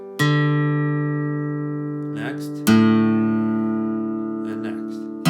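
Two plucked guitar string notes, each ringing out and slowly decaying, sounded one after another while tuning against a tuner; faint handling noise between them, no talk.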